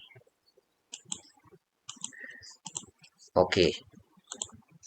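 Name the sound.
computer mouse clicking in software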